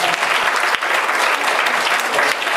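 Applause at a church gathering in honour of the pastor's wife as she stands: dense, loud clapping from a crowd, steady and sustained throughout with no pause.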